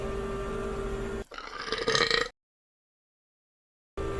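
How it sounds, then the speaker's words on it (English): A video game creature lets out a guttural, retching groan for about a second, wet and close, before cutting to silence and a low droning hum. "like a human trying to vomit their own tongue while moaning"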